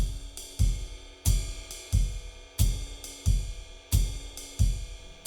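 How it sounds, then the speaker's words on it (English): A basic 90 BPM swing drum groove in 4/4 repeats steadily at a relaxed tempo, with punchy kick hits and bright cymbal strokes, played alone. "I want to present you with a really, really basic swing drum track that's in 4/4."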